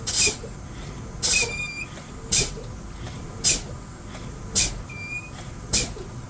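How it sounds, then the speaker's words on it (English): Air brakes on a truck pumped during a CDL pre-trip inspection: six sharp hissing bursts of released air at roughly one-second intervals, each with a brief high squeal, over a low idling rumble. "So you're gonna pump your brakes."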